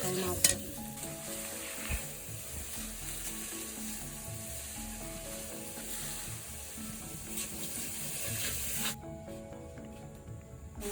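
Stinging catfish frying in a pan with spices gives a loud, continuous hissing sizzle with occasional stirring scrapes, close by, before cutting down sharply near the end.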